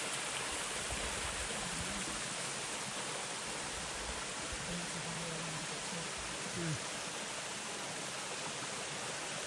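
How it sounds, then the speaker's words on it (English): Dixon Falls pours clean water in a steady, broadband rush that stays even throughout, with a faint voice now and then beneath the roar. "here we have beautiful Dixon Falls."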